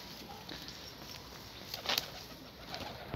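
Pigeons in a rainy outdoor setting give faint cooing and a brief flutter of wings, quiet and somewhat distant against steady background hiss.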